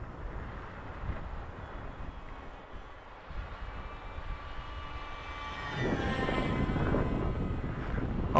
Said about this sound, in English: Let's bump the throttle up a bit and see if we can do a flyby.